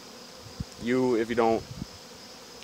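A swarm of honeybees buzzes loudly and close for about a second, a dense droning whine over faint background hum, with a brief voice speaking near the start.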